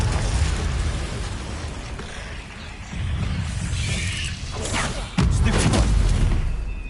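Confringo blasting curses go off in a Harry Potter video game, loud booming bursts with a heavy rumble, the largest blast near the end, over a dense layer of game sound effects.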